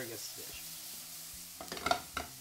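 An asparagus dish is stirred in a hot pan, giving a soft, continuous sizzle, then a few closer scraping and stirring strokes near the end.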